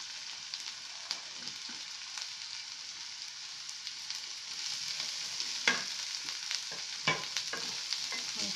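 Onions frying in a pan for a cauliflower and egg scramble, a constant hissing sizzle with scattered scrapes and clicks as they are stirred, close and moderately loud, with no talking.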